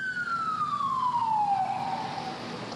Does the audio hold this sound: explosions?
no